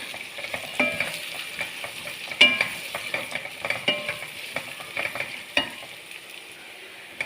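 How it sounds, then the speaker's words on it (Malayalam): Chopped garlic, green chillies and shallots fry in hot oil in a pan while a spoon stirs them, a close sizzle punctuated by frequent scraping taps, with nobody speaking. "എന്നിട്ട് ഇതൊന്ന് വാടുന്നവരെ ഇളക്കാം."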